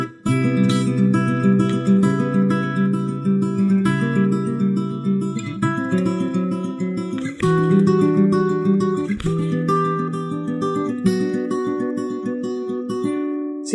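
Fingerstyle acoustic guitar plays a cover of a song: close, full chords are plucked with picked melody notes over sustained bass, in a gentle flowing rhythm with occasional pauses. The guitar plays alone, with no voices.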